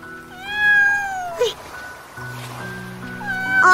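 A kitten meows in two long, drawn-out cries close to the microphone, loud and rising then falling, with a pause of quieter background between them.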